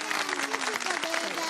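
A studio audience claps in a steady burst of applause for a child's naat recitation on a TV show, with voices mixed in underneath.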